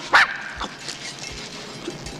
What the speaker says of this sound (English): this is my talking dog, Saki